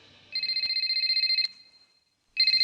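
A telephone rings in two loud electronic bursts, the first trilling for about a second, then a pause before the next ring starts, with no talk over it.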